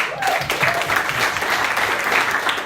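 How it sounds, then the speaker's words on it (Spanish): Church congregation applauding to welcome a visiting guest at a worship service, a dense, fairly loud round of clapping from a small crowd that holds steady throughout. "Un aplauso."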